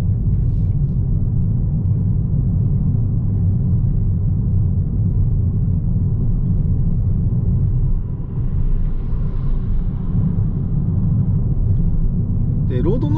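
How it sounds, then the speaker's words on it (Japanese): Road noise fills the cabin of a Toyota Corolla Touring front-wheel-drive car driving through town, a steady low rumble that runs throughout, with a driver talking over it. "ロードノイズはちょっとね結構入ってくるなっていう、そんな印象はあるんですけれども"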